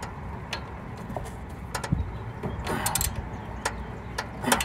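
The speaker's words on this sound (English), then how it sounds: "Tighten this sucker up." Ratchet wrench tightening a bolt on a replacement truck alternator, irregular clicking strokes close by over a steady background hum, with no talking.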